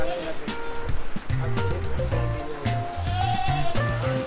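Anglo-Nubian and Lamancha goats on a farm in Davao, bleating repeatedly at close range in overlapping, wavering calls, with people talking between and over them.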